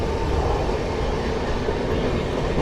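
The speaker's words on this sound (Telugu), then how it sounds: "సో మన ట్రైన్ సీతాఫలం మండి నుంచి అయితే బయలుదేరిపోయింది" A passenger train running between Secunderabad-line stations rumbles loudly and steadily from inside the coach, a dense continuous roar with a faint rail rattle underneath.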